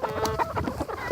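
Farm chickens cluck close up, packed tightly together in a busy, continuous run of squawks and clucks lasting about a second, with no voices.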